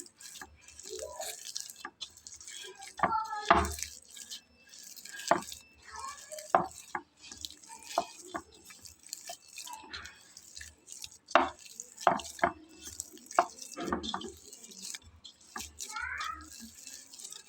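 Soft dough of mashed potato and oil is worked by hand for a potato snack, making irregular sticky squelches and slaps at close range, with quiet pauses between the presses and a few faint higher squeaks in the background.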